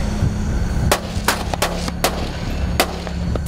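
Warning shots are fired toward the water from a patrol boat in Natuna waters, a series of sharp, distant cracks spaced irregularly over a steady engine and wind background.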